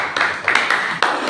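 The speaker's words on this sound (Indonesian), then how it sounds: "Mari kita beri aplaus terlebih dahulu." A small group claps together indoors in a group counseling session, with a short burst of moderately loud, uneven hand claps.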